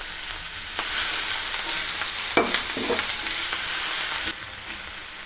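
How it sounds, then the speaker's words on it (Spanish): Onion sautés in hot lard with a loud, steady sizzle, broken by a few scraping stirs in the pan. "Una vez que tenemos caliente nuestra manteca, acitronaremos nuestra cebolla."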